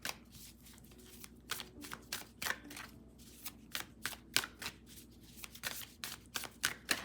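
Oracle cards shuffled close up in a quiet room, a run of quick papery riffles and slaps in an uneven rhythm, with no talking.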